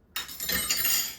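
A small mixing spoon clinks and scrapes against a glass bowl while rhubarb coffee cake batter is being mixed, one sharp bright clink followed by a brief run of lighter rattling taps, close up.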